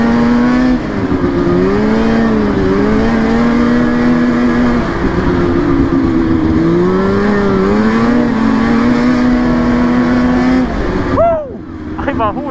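Polaris Indy 600 snowmobile engine running steadily and loudly close by, a sustained droning whine that rises and falls in pitch a couple of times, then cuts off near the end.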